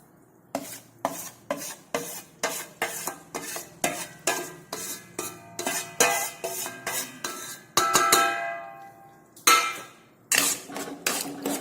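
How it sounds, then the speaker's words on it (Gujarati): Mung bean flour roasting in hot ghee in a pan, stirred with a spoon in a steady run of close, loud scraping strokes with a soft sizzle beneath, about two strokes a second, then a few slower scrapes. "હવે આપણું ઘી ગરમ થાય એટલે આપણે જે મગનો લોટ તૈયાર કરીને મૂક્યો છે તે અંદર લઈ લઈશું"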